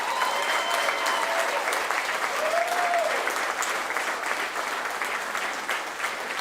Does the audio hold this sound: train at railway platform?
no